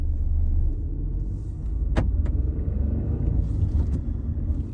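A Renault Clio V five-door 1.0 TCe GPF runs along a road, a low steady engine and road rumble heard from inside the cabin, with a couple of brief sharp clicks partway through.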